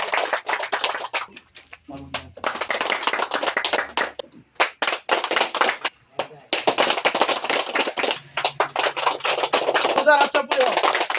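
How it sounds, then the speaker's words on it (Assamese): An audience at a minority organisation's joining event in Singimari, Kachua claps hands in sustained bursts, with brief pauses and some voices mixed in. "এটা হাত চাপৰি হ'ব লাগে।"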